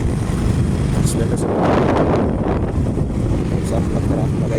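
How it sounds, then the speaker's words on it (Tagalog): Very strong typhoon wind blows outdoors at night, a loud, constant roaring buffet against the microphone with gusty swells, and voices are faintly present beneath it. "Dito kami sa video na sobrang lakas ng hangin."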